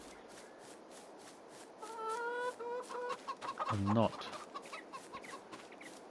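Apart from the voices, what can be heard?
chickens clucking at a chicken coop in video game Farming Simulator 22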